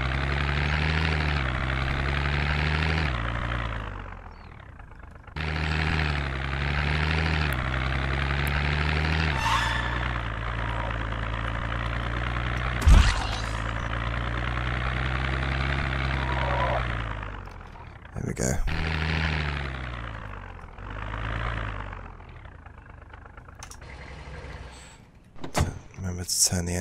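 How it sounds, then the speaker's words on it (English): Car engine running in the video game Project Zomboid, a steady droning hum that rises and drops in pitch with revving, broken by short pauses and clunks, under intermittent talking. "Turn the engine off."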